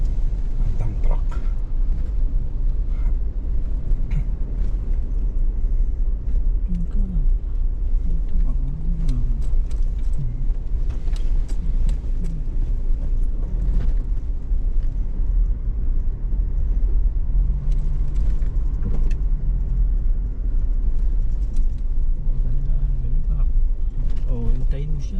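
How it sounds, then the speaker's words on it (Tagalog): A Mercedes-Benz dump truck driving past on a muddy road, a heavy low engine rumble with creaks and rattles of the body. Loud and close for the whole stretch, with voices talking over it. "Ang dump truck."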